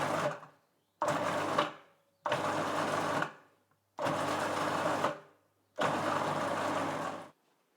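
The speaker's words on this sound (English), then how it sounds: "I'm gonna cover my processor. I'm using a pulse function, and I start gently by doing a few pulses." Food processor pulsing eggs for choux pastry, five loud whirring bursts of about a second each, separated by short pauses.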